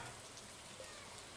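Rainfall ambience in the Stardew Valley video game, a soft, even hiss of rain without voices over a brief moment.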